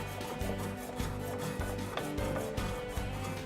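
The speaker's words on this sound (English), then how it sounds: "The fine finishing needs to be done once again by hand." Solid wood chair part being hand finished by hand tool, giving a continuous rasping, rubbing scrape with regular repeated strokes roughly every half second, close and steady with no talking.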